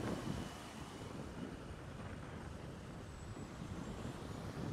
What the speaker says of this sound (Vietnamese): Chứ bây giờ là mình thấy gió dữ dằn, gió lắm rồi